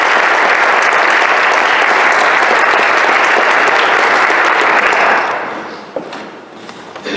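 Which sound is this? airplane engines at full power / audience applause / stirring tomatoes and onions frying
audience applause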